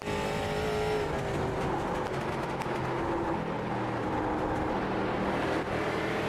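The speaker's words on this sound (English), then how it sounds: "Cars around on the racetrack." Race cars circle the Irwindale racetrack during a New Year's Eve endurance race, a continuous loud roar of several engines with no break.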